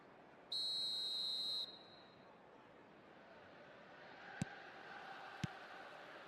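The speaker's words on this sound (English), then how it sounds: "Whistle goes and we start the second half." A referee's whistle in a football video game shrills once, a bright sustained blast lasting about a second, followed by low crowd murmur with a couple of faint clicks.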